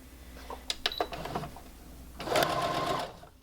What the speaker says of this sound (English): we're just doing simple straight stitch all the way down